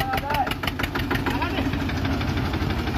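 A tractor engine, pulling a trolley that has caught fire, runs with a steady, close, rumbling idle and a faint knocking pulse throughout, while voices murmur in the background.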